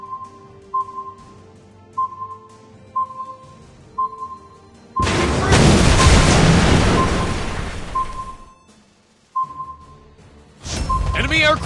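In World of Warships Blitz, a tier VI Bayern battleship comes under torpedo attack, with repeated short alert beeps before a loud, rumbling impact blast that fades out, followed by another sharp burst of gunfire.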